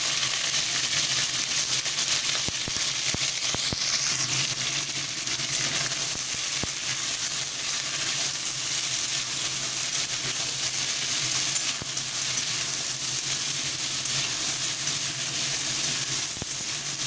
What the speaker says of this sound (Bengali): এবার আমি কাঁকড়ার টুকরোগুলোকে দিয়ে দিয়ে কাঁকড়াগুলোকে একটু ফ্রাই করে